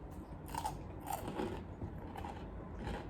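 Crunchy KFC popcorn chicken bitten and chewed up close in San Jose, Costa Rica: several crisp crunches in an uneven rhythm, with no talk over them.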